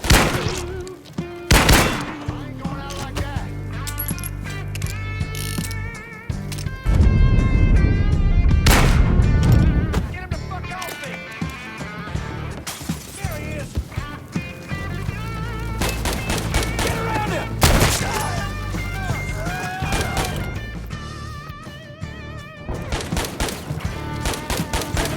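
Gunfire in the Mafia III video game, dense fusillades of shots and heavy booms crashing throughout, loud and sustained with game music and occasional voices underneath.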